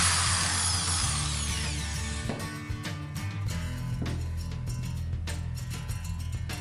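A cordless power drill runs at a high, steady whine, then its pitch drops and settles into a lower, continuous hum with faint clicking mechanical ticks, close and loud with no talking.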